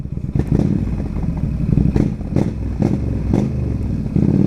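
A Yamaha XVS 1300 Stryker cruiser motorcycle revs repeatedly, its deep V-twin engine rising in several sharp bursts over a steady rumbling idle, close and loud.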